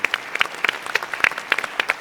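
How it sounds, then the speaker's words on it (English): An audience at a panel on school discipline gives a short round of applause for teachers, a loose scattering of distinct claps rather than a full roar. "So I'd really like a round of applause for those teachers who are doing"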